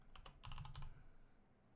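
Typing on a computer keyboard: a quick, close run of about eight crisp key taps, clustered in under a second, with no voice.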